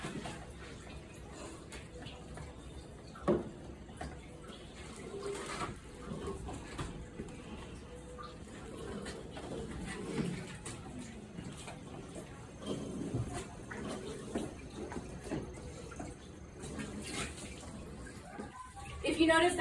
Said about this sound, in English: If you notice that's really flowing, just let it flow for a minute.